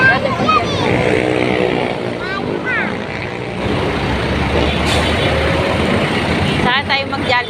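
Jeepney and heavy street traffic in the Philippines, a steady rumbling diesel engine with a brief hiss like an air brake, while people talk and call out over it.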